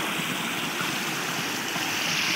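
Mountain stream flowing beside a rocky quartz crystal bank, a steady, close, continuous rush of water with no talking.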